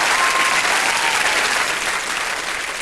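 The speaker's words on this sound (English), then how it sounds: "Let's give him a round of applause." A television studio audience at a New Year entertainment show breaks into loud, steady applause, a dense wash of clapping that fades slightly toward the end.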